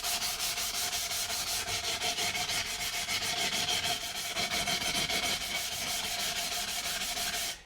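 Rapid, rhythmic rasping strokes of an 80-grit pad sanding the edges of multi-layered fused glass, a steady close scratching scrub repeating several times per second with no voices.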